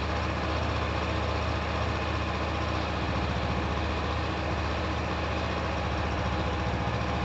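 A nearly new 2023 Honda CB500F motorcycle engine idles close by, loud and steady with an even low rumble throughout and no change in pace.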